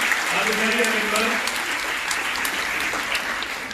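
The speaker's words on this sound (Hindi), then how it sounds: "एक बार जोरदार तालियां बजाइए।" Hearty applause from an audience seated in a hall at a free women's event in Aurangabad, a dense burst of clapping that stays loud and then slowly tapers, with no speech over it.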